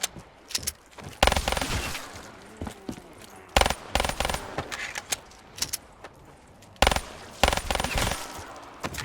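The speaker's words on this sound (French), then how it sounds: "Ça fait 3 rafales quand même pour tuer un zombie." Repeated bursts of automatic gunfire in a Black Ops 3 zombies custom map. Several loud, sharp volleys are spaced a few seconds apart, with quieter game clatter in between and no talking.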